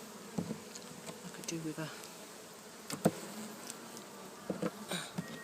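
Honey bees buzz around an open top bar hive during an inspection, a steady insect drone with several sharper close passes; someone speaks briefly over it.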